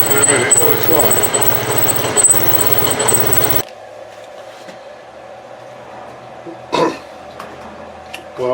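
A gear cutter machining a 16DP change gear for a Colchester Bantam lathe runs with a loud, steady grinding hum for about three and a half seconds, then stops abruptly, leaving quiet room noise and a brief clatter.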